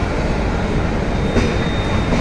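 A train on the Howrah to Dhanbad line near Barakar station, running with a loud, steady, close rumble of wheels and carriages that continues throughout, with no voices.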